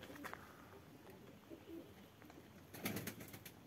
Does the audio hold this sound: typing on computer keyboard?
no